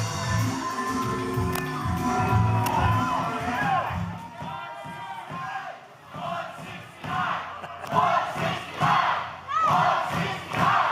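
A live wrestling crowd at a Louisville show roars and yells as a heavyweight contender arrives, with loud chanting voices swelling and dipping in waves and occasional thuds underneath.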